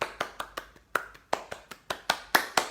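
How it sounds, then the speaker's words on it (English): Small round of hand clapping, about a dozen sharp, distinct claps at an uneven but steady pace, close and fairly quiet, with no voices over them. "I think we all deserve a nice round of applause"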